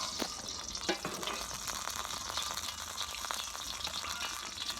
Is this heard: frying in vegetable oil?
yes